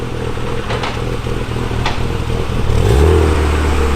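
A self-built BMW M3 sedan is driven out after an alignment. Its engine idles and rumbles with some clatter, then rises into a louder, steadier drone as the car pulls away close by.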